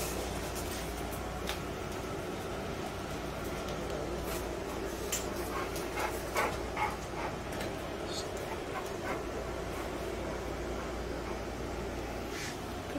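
A Presa Canario puppy gives brief, scattered whimpers and yips over a low steady background, with soft talking around it.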